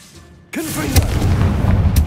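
An explosive Confringo spell cast in a Harry Potter video game: a sudden booming blast after a quiet moment, followed by a rumbling, crackling tail that stays loud to the end.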